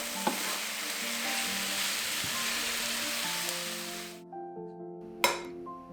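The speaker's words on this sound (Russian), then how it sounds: "В самом конце добавляем зелень, перемешиваем и выключаем огонь." Cabbage filling with added greens sizzles in a frying pan as it is stirred, a steady frying hiss with scraping clinks, then the heat drops and one sharp clink of the utensil sounds near the end.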